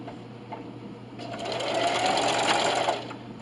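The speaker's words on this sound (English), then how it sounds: "Now I put my needle exactly on that 1/4 inch mark, and I'm going to backstitch." A sewing machine backstitches the edge of a self-binding receiving blanket, a close whirring hum that rises and speeds up midway through the short stitching run, then eases off.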